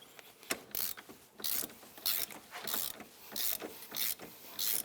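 A ratchet with a 17 mm socket clicks in quick bursts while working a nut on the tie rod end of a Honda Rancher 420 ATV. The clicking is close, faint and comes in short repeated spurts, with no talking.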